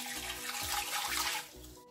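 Water poured into a pressure cooker holding small pieces of meat and sliced onion, a steady close splashing stream that runs for under two seconds before tailing off, with no voices.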